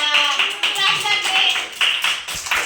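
Hands clap in a quick, steady run of claps in an anganwadi preschool storytelling session, close and fairly loud, with a voice speaking over them.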